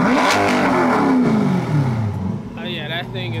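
A Chevy C8 Corvette with a new loud aftermarket exhaust revs up close by, a loud rising roar that then falls and settles back, while people speak briefly near the end.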